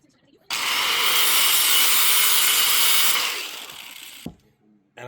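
Cutting off the included metal eyelet of a replacement seatbelt for a 1988 Yugo GVX, heard as a loud, steady abrasive grinding cut lasting a few seconds, then tapering off with a brief knock and quiet.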